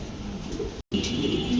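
A pair of white Danish pigeons coo softly under a steady wash of background noise, with a brief dropout partway through.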